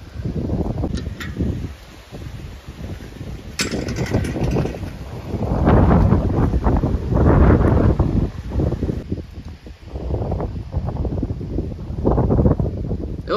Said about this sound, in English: Oh, little dust devil.